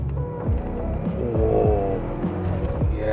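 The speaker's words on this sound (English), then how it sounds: "You can hear that growl of the engine." A Mercedes S-Class engine growls with a low throbbing hum at moderate level from inside or near the car, with no talk over it.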